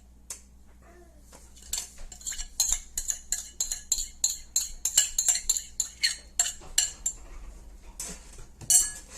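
Hands mixing bread dough of yeast, water and sugar in a bowl, giving a run of wet squelching and clinking strokes in a fairly steady rhythm, close up and moderately loud, with no talking.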